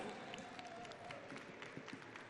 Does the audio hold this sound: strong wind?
no